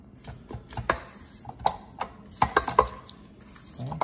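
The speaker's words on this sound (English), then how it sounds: "and I'm gonna scrape the bottom again." A spatula scrapes the bottom of a pan while mixing cookie dough, giving irregular light scrapes and taps. The spaced clicks are close and fairly quiet, with no talking.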